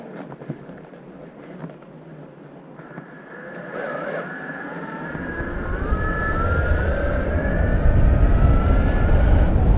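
7000-watt electric skateboard on a ride: motor whine rising in pitch as the board speeds up, with a growing rumble of wheels and wind that becomes loud and steady by the end.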